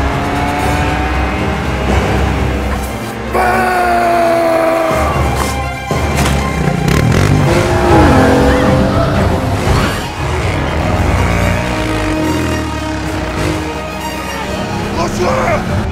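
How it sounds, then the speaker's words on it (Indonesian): A car chase in an action film roars past with loud revving engines, squealing tires and skids in a dense, continuous mix, while a voice talks over it and shouting breaks in. "ternyata dari belakang, Mason berhasil untuk mengejar mobil mereka."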